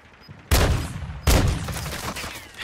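Two loud, close shotgun blasts in Warzone 2, about three-quarters of a second apart, each with a sharp crack and a booming low tail that lingers between shots.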